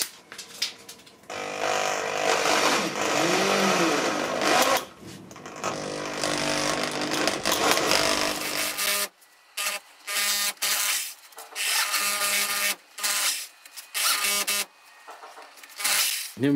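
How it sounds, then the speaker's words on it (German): A small cordless Aldi drill bores a 10 mm hole into wood, its motor whining loudly and steadily for several seconds, then cutting in and out in short bursts as the bit bites. "Ich nehme mir jetzt hier meinen kleinen Aldi-Akkuschrauber."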